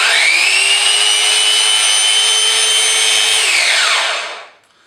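A Festool Rotex 150 sander spins up smoothly and runs at a steady, loud whine for several seconds, then winds down to silence, with no talking.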